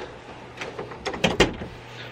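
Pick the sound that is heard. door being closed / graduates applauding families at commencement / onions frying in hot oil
door being closed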